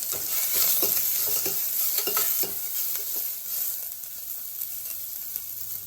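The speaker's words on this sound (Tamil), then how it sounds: "வெங்காயம் பூண்டு நல்லா வதங்கணும்." Onion and garlic sautéing in a pan for dal khichdi, with a brisk sizzle and rhythmic stirring scrapes early on that ease into a softer, steady frying hiss.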